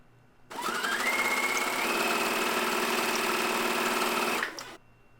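A sewing machine stitches gathered skirt pieces to a flat-front elastic-back waistband, running in one steady, fairly loud whirring burst of about four seconds with a faint pitch rise at the start, no talk.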